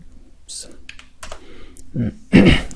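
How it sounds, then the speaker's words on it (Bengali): Fingers tap a computer keyboard in a few scattered clicks, close and fairly crisp, while someone speaks over the typing. "তো আমি কিছু হিজিবিজি লিখি"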